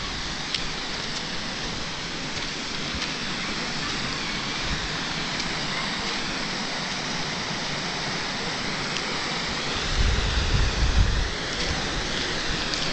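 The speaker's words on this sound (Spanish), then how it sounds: "Miren qué chulada de río es este." The Azusa River flows with a steady, broad rush of water, continuous and fairly close, with a slightly louder surge near the end and no talking.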